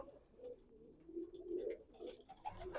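Pigeons housed in a free-mating loft in Florida coo softly and repeatedly, low and close, with faint rustling and small clicks around them.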